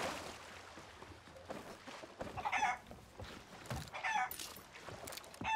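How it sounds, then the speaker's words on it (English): Chickens clucking aboard a ship in the Sea of Thieves video game, with short bursts of clucks and squawks at irregular intervals over a low rumble of game ambience, faint and somewhat distant. "We need a white feathered, a blue dappled, and a golden chicken."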